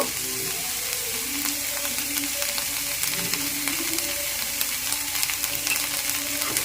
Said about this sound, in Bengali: একটু ভালো করে নেড়ে চেড়ে মিশিয়ে নিচ্ছি আর কড়াইয়ের মধ্যে এটা একটু ভাজা ভাজাও হবে